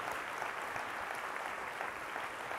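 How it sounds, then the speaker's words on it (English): Faint, distant audience applause at a community arts awards show for electric violin players, a soft even patter of many hands clapping throughout. "How about another round of applause for Christy, Leland, and Mary on the electric violin?"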